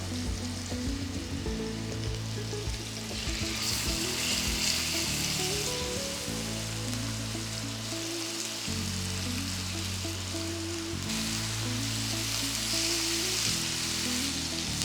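Beef chops fry in hot coconut oil, a dense continuous sizzle and crackle that holds steady throughout, close and fairly loud with no talking.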